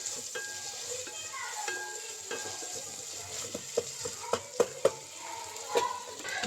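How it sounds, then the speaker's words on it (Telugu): Egg dum biryani ingredients being mixed in a pot: a continuous soft sizzle under repeated scraping stirs, with several sharp spoon knocks against the rim toward the end. "మూత అయితే ఓపెన్ చేసి కొద్దిగా వేసేసి కలుపుతాం."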